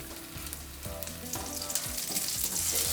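Butternut squash quinoa cakes fry in a pan with a continuous close sizzle and crackle that grows slightly louder, while intermittent low clinks and tonal kitchen sounds run beneath.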